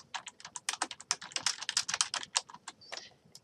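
Steady, brisk typing on a computer keyboard, with close, crisp keystrokes clicking in quick irregular runs and brief pauses, no voices present.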